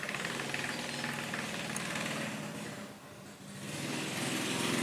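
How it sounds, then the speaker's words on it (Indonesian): A noisy, rough-running motorbike engine chugs with a knocking, vibrating rumble, fairly close and continuous, dipping briefly before swelling louder again, with no talking over it. "motor berisik, motor sialan ya, sudah motor jelek berisik."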